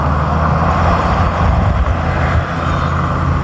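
A motor vehicle rolls by on a steep zigzag mountain road, a steady loud low rumble of engine and tires filling the whole stretch with no clear approach or fade.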